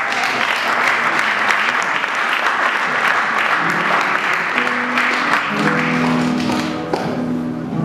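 Congregation applauding at an evangelical baptism service, loud sustained clapping from a large crowd throughout, joined by a rising sung or musical tone in the second half.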